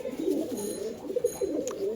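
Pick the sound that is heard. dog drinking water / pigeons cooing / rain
pigeons cooing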